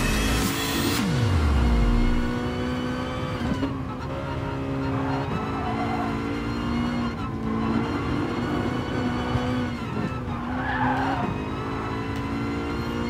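A 1998 Honda Civic Type R (EK) engine revs and downshifts around the Nürburgring in GT Sport, with rising and falling engine pitch, repeated shifts and tire squeal over about thirteen seconds, with no talking.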